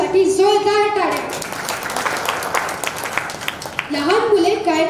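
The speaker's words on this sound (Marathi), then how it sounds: "एकदा सक्षमसाठी जोरदार टाळ्या" Applause for a child poet at a children's poetry gathering, a few seconds of steady crowd clapping between spoken voices at either end.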